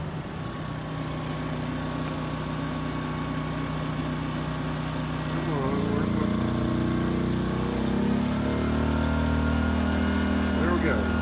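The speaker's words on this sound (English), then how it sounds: "Let's see what the little generator will do when it kicks in." A Pulsar PG2000iS inverter generator hums steadily, then audibly changes pitch and labors as an air-conditioner compressor kicks in partway through, with voices in the background.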